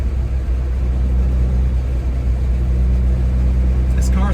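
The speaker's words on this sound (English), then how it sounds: "And a very crisp engine." A 1970 Triumph Herald 13/60 Convertible running on the road, its engine giving a steady low rumble with constant road noise, loud and close throughout.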